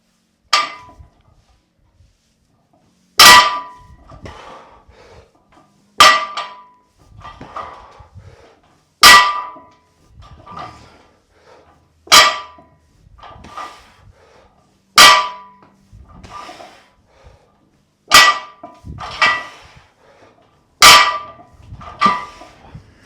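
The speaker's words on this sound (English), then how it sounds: "These metal plates are quite loud" Metal weight plates clang loudly during a 170 kg deadlift triple: about eight sharp, ringing impacts spaced roughly three seconds apart, each followed by a short rattling decay, with no voices.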